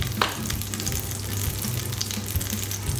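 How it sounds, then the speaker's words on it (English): Butter and a little olive oil frying in a casserole, a steady close crackling sizzle with a low hum underneath, continuous and fairly loud with no one speaking. "we're just gonna put in our butter and wait till that's melted. And I'm also adding a tiny little bit of olive oil"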